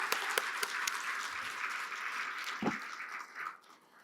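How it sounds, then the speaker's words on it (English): At a gala dinner, an audience applauds warmly, a dense and steady wash of clapping that thins out and fades over the last second. "let's give them a wonderful round of applause for what they've accomplished"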